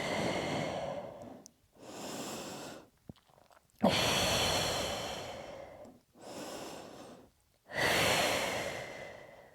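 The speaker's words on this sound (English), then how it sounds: "And breathe." Slow, deep breaths during a Pilates shell stretch: five long airy inhales and exhales alternating across the stretch, close and clear, with no talking.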